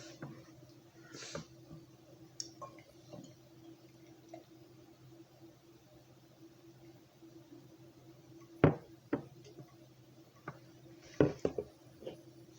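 A can of Resident Culture and 3 Sons West Coast Connect, a West Coast style beer, is cracked open in a quiet room with a low hum: a few sharp snaps and clicks, then a brief fizzy rush, with no voices.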